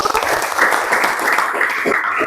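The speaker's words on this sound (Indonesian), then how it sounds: "tepuk tangan untuk kita semua dulu" A classroom audience at an Indonesian university teacher-training session applauds together: a loud, steady, close wash of clapping that fills the whole short stretch without pause.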